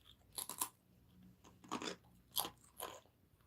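Rice crackers crunched and chewed close up in four distinct bursts of crisp, crackly bites spaced about a second apart, with quiet pauses between and no talking.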